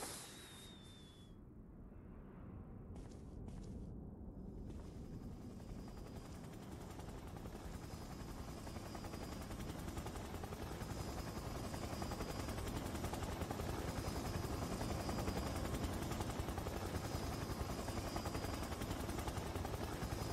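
A helicopter flies in the video game Resident Evil 1 HD Remastered, giving a steady, loud, unbroken rotor roar that fills the whole stretch with no voices over it.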